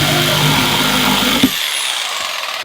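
A power saw cuts into wood beside a ceiling joist during an old cabin remodel, a loud steady buzzing whine that stops abruptly about halfway through, leaving quieter room noise and a faint knock at the end.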